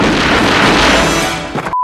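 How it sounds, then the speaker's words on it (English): Loud cinematic crash, boom and gunshot effects from The Flash movie in a dense burst, ending abruptly with a short electronic tone. "Listen to the sound effects and the gunshots in that movie."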